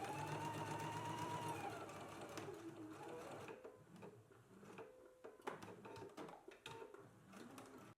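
A sewing machine stitches down garment facing pieces in rapid bursts of mechanical whirring, loud at first, then settling into shorter clattering runs with brief pauses between.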